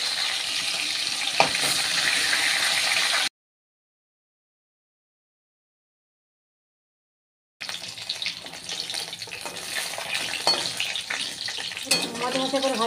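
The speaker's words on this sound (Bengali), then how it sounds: "ওই তেলের মধ্যে এই মুড়োগুলো ভালো করে ভেজে নেবে" Snakehead fish heads fry crisp in hot oil, a steady close sizzle and crackle that breaks off into silence for a few seconds before resuming, with faint stirring near the end.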